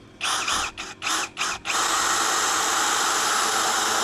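A DongCheng DCPL165 cordless impact driver whirs at speed 1 in five quick pulsed bursts as the trigger is squeezed and released, then runs in one steady, close, loud whine.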